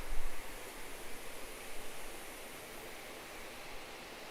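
A waterfall pours into a river in Ito, Shizuoka, giving a steady broadband rush of falling water, close and continuous, with no voices.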